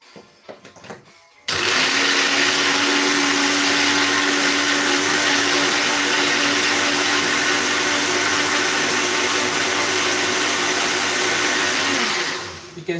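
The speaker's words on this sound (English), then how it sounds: "you can see this is a very powerful blender" A powerful blender runs at full speed on cream of asparagus soup, a loud steady roar that starts abruptly after a brief quiet moment and holds for about eleven seconds before winding down.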